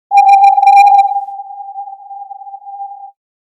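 A single synthesized whistling tone holds a steady pitch, bright and buzzy at first, then thinning into a pure, fading ring over about three seconds.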